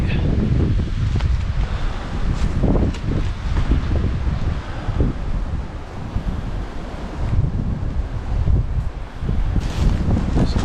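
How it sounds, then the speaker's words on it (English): Strong wind buffets a microphone outdoors, a loud, continuous low rumble with gusty surges and faint rustling throughout. "Stop the wind."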